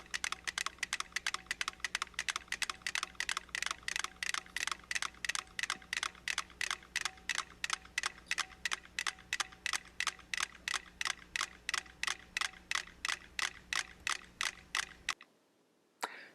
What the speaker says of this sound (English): really coming into perfect synchronization. And those metronomes will stay that way.